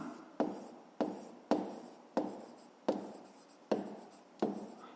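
A pen or pencil writes by hand on paper during a fifth-grade maths exercise, seven evenly spaced strokes each starting with a sharp tap and trailing off in a scratchy hiss, close and quiet.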